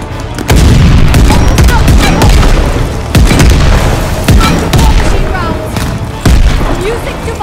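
Bombing airstrike explosions in Call of Duty Vanguard, a run of loud, heavy booms landing one after another over several seconds amid battlefield gunfire, with sharp blasts punctuating a rumbling din.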